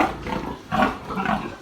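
Pregnant sows on a pig farm grunting in low, rough bursts, three close grunts in quick succession with no talk.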